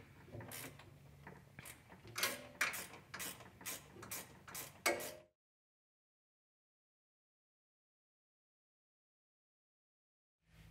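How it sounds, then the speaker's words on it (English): A ratcheting wrench tightens a nut on the Quietech governor of a Yamaha Drive 2 golf cart. It gives a close series of sharp clicks and ratchet bursts for about five seconds, followed by silence. "I like to use a ratcheting wrench that you can just put right on the end of that nut and then just start"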